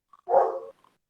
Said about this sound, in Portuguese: os cachorros aqui, tem isso também